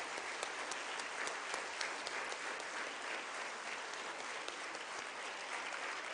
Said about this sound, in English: Can we all first get up and just clap for all the 3rd, 4th and 5th standard students here?